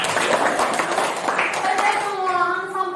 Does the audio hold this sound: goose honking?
no